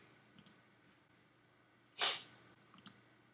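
Mouse clicks in a quiet room while organizing folders in Google Drive: a couple of faint ticks, then one louder, sharper click in the middle, followed by two more small ticks near the end.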